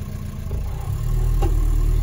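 A Talbot camper fitted with a swapped-in PD130 diesel engine runs at a low, rumbling idle that swells as it begins reversing, close and steady with no voices.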